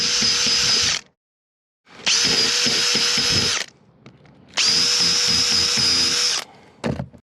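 A power drill bores into rotten wood on a wooden boat under restoration, three loud sustained whining runs separated by short pauses, with a brief final burst at the end.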